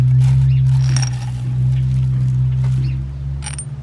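Metal handle pulled out of a Helios Tool mid-sized survival shovel, soft clicks and ratchety scrapes heard close up over a steady low hum.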